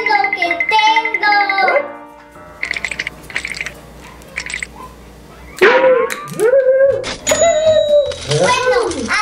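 Dog howling in rising and falling wails, loud and close, alternating with a child's chatter and a few short clinking sounds.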